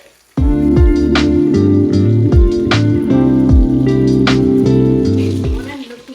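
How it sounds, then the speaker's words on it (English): Loud, steady sizzling of short ribs searing in a hot pan, with someone talking over it throughout. "Hear that sizzle? It's really lovely."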